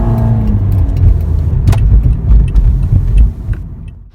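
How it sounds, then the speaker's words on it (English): A 2014 Toyota Corolla engine fitted with a Dragon Weapon R aftermarket air intake runs with a deep, loud intake rumble and light revving, close up, alongside some rattling and clicking noises, before easing off at the end. "There you have the newly installed Dragon Weapon R air intake in the 2014 Toyota Corolla."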